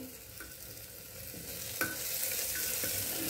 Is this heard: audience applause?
no